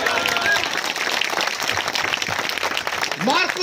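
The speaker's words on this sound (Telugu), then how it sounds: "అందరూ చప్పట్లు కొడతాం." A church congregation at a gospel meeting claps together in a dense, steady burst of applause filling the whole stretch, with a voice rising over it near the end.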